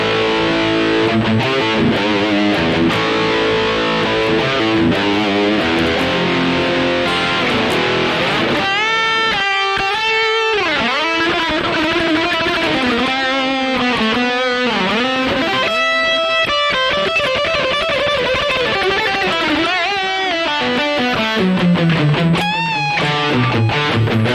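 Electric guitar played through the vintage British amp model of a Rocktron Prophesy preamp, a loud, steady stream of overdriven chords and sustained melodic lead lines with bends, heard alone without talk.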